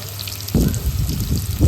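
Onions and green chillies hit hot oil in a pan, a sudden loud sizzle that breaks in and keeps crackling and spitting up close.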